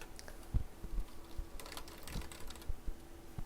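Ctrl and Shift keys pressed on a computer keyboard produce a few soft, close clicks and taps at uneven intervals over a faint background hum.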